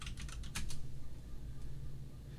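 Quick clicks on a computer keyboard, a short burst of a few close keystrokes near the start followed by quieter scattered taps over a low background hum.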